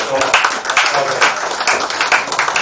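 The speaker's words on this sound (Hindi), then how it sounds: "सभी एक बार अपने लिए जोरदार तालियां बजाएं।" An audience at an event claps loudly, a dense steady patter of many hands filling the short stretch, with some talk mixed in beneath.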